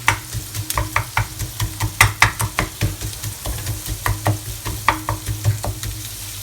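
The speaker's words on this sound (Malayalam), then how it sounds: "സവാള ഒന്ന് വഴറ്റി കൊടുക്കണം." Sliced onion with green chillies sautéing in a hot pan: a steady sizzle broken by repeated scraping stirs of a spatula in an irregular rhythm, close and clear with no talking.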